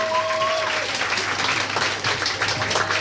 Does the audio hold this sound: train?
no